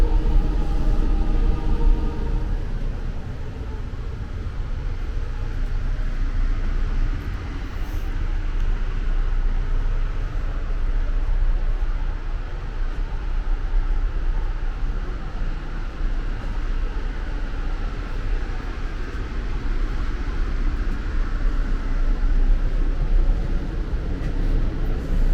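Steady rumble and roar inside a riding Amtrak Adirondack passenger carriage, a continuous broadband drone of wheels and track noise that holds fairly loud and even throughout, with no talking.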